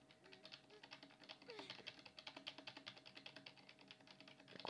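The Q key on a computer keyboard is pressed over and over in a rapid, steady clicking rhythm, close and fairly quiet, while game sounds play faintly underneath and a louder burst comes at the end.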